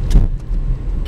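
A car creeps along a snowy dirt road at about five miles an hour, giving a low, close engine and tyre rumble with a few light rattles and no talk.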